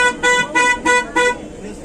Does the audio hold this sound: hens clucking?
no